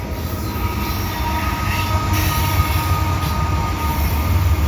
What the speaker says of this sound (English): There's a DPU.